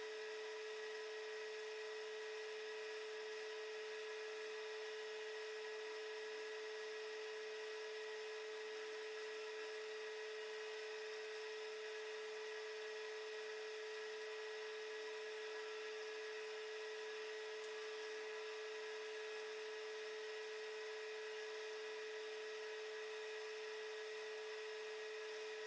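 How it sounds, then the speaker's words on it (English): A polishing wheel buffs a Jim Bowie Germany stockman knife, giving off a constant high, whining tone that runs unchanged and fairly faint throughout, with no talking. "after just a few seconds on the polisher, this knife's already looking better."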